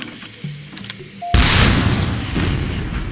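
A deep, booming artillery cannon blast in a video game erupts suddenly after a quiet moment, followed by a rumbling echo that slowly fades.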